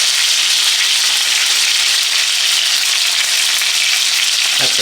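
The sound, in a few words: crispy chicken frying and sizzling in oil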